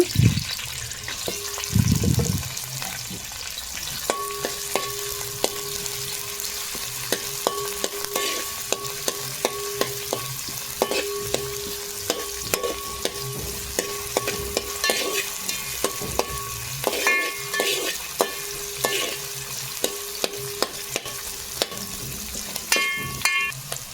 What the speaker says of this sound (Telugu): ఆయిల్ అయితే వీటెక్కిన తర్వాత ఉల్లిపాయలు పచ్చిమిరపకాయ ముక్కలు అందులో అయితే వేసుకుని బాగా మగ్గనివ్వాలి.